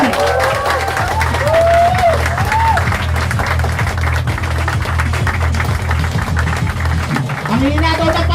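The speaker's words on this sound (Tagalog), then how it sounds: "palakpakan!" A large audience applauds at an Ideal Prime Ventures presentation, welcoming the company president: dense, steady clapping with cheers and whistles mixed in, sustained and loud throughout.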